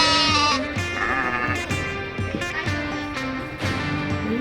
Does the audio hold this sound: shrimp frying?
no